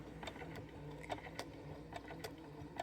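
Home sewing machine stitching a foundation paper piecing line, a quiet steady mechanical whir with faint ticks and light taps, heard close and low.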